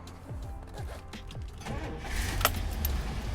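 Pop-up headlights of a 1965 Buick Riviera Grand Sport whir open with a steady electric motor hum, a faint clunk near the end, close and moderately quiet.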